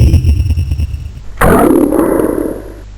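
A human shout slowed down into an imitation of a Bengal tiger roar, a single deep, loud roar that bursts in at about 1.4 seconds and fades out slowly after a pulsing low rumble.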